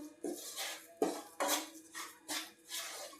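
Rajgira flour and jaggery being stirred in a metal pan off the heat, with a spoon scraping and clinking against the pan in about five close, separate strokes.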